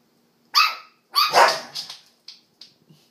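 A Westie puppy barks: one sharp yelp followed by a louder, longer gruff bark, then several short, fading yips, close and alone against silence.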